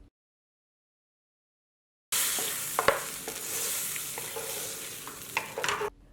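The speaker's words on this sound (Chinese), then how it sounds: "接着就把准备好的淀粉坨子倒入锅内， 翻炒均匀之后，倒入一小碗的清水" Starch lumps are stir-fried in an oily wok with dark soy sauce, giving a steady close sizzle with a few sharp scrapes and clacks of the spatula after a silent opening.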